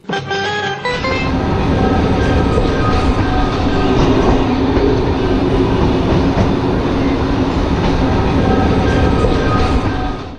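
Third-class train on the Benha to Mit Ghamr line pulling into Mit El-Hofiyin station, a loud steady rumble of wheels and carriage rattle with faint squeals and clatter running continuously throughout.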